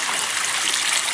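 Water rinsing through wood mulch, a steady hissing gush of running water heard close and loud, continuous without any talking.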